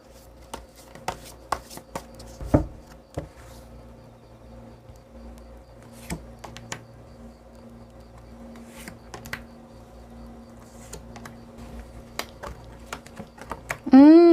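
Tarot cards shuffled and drawn, with scattered light card flicks and taps at moderate level, plus one louder slap near the end.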